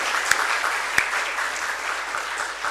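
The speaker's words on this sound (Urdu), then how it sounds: "ذرا مضبوط تالی بجے تاکہ پتہ چلے" Dense, loud applause from a standing audience at a seminar hall, continuous clapping filling the room with a few sharper individual claps standing out.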